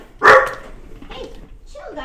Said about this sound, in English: I think you're just barking at Daddy